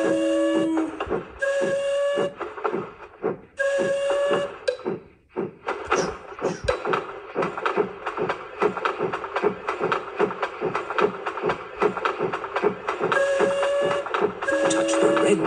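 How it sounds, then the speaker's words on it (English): Train running in a Peppa Pig video game, a steady rhythmic chugging clatter with repeated tonal whistle toots near the start and end, loud and continuous with no talking. "Turn the wheel to make the train go slower."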